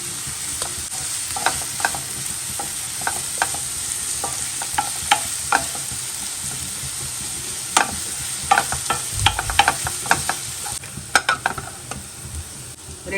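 Onions sautéing with curry leaves in a pan while cooking Tamil-style spicy macaroni, a steady close sizzle broken by repeated scraping stirs and soft clinks of the spoon against the pan, with no talking.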